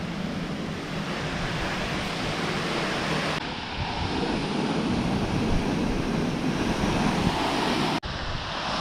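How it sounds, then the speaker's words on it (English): Conejos Falls, a waterfall in Colorado's South San Juan Wilderness, roars as a steady dense rush of falling water. It is loud and close and goes on unbroken, with a brief cut near the end and no voices. "Here it is, Conejos Falls."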